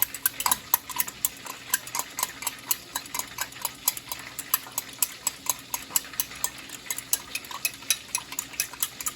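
Sweet and sour chicken ingredients are mixed in a bowl, giving a steady run of quick clinking, scraping stirs close by, with no talking.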